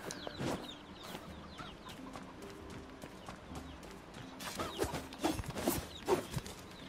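Chickens in the video game NieR Replicant cluck in short, sharp bursts over soft game ambience. The scattered clucks grow busier and louder toward the end, with no one talking.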